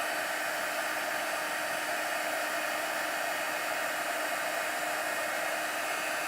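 A heat tool blows a steady, loud, broadband whoosh over embossing powder as it melts, holding constant for several seconds with no talk.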